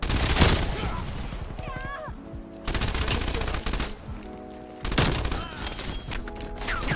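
Rapid bursts of PPSh submachine gunfire fitted with a loud pipe in Cold War gameplay, several loud sustained volleys separated by short pauses, with game effects mixed in.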